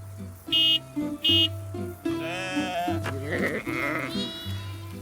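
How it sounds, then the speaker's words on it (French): Escaped cartoon sheep bleat loudly in quick overlapping calls, mixed with animated sound effects and a horn-like honk, in a French cartoon chase scene. "Oh, c'est pas vrai, les moutons se sont échappés."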